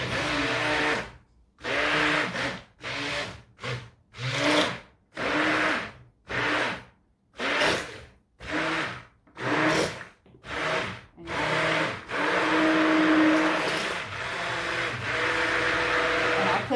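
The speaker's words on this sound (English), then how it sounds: "So what you want to do is you take your stick blender." Stick blender whirring in pulses while mixing a batch of lavender cold process soap, about a dozen short bursts followed by a longer continuous run, close and fairly loud with no one talking.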